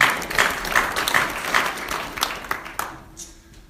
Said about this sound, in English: I ask everybody to give the Hebrew Center a round of applause.